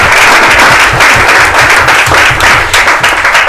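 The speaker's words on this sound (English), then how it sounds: "just a big round of applause" A live audience gives a big, sustained round of applause at a social media gathering in Hong Kong, with dense, loud clapping that continues steadily throughout without any talk.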